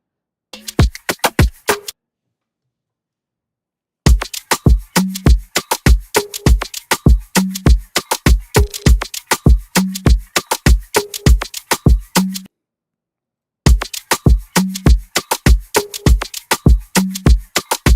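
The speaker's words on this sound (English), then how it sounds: "all drums together sound like this" A dense, driving drum pattern with stacked kicks and snappy hits in a fast steady rhythm, cut by two short silent gaps.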